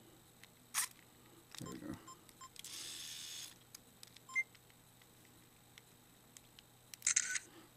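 A Sony S40 digital camera powers on and its focus mechanism runs, giving scattered faint clicks, a brief whirring burst and a final electronic beep in a quiet room, with a short spoken remark partway through.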